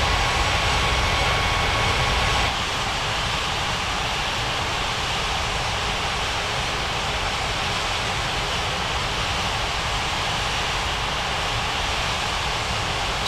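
A steady broadband roar of airliner engines at taxi power fills the scene in the Unmatched Air Traffic Control game at Springbrook International, dipping slightly in level early on and then holding constant with no voices.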